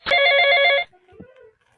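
A telephone rings once with a bright electronic trill lasting under a second, loud and close, followed by a brief quiet voice.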